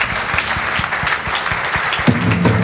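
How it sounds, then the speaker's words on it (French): Audience at the Pierres d'Or 2021 award ceremony applauds steadily in a dense, sustained wash of clapping, with a brief voice or musical tone rising underneath near the end. "On les applaudit bien fort"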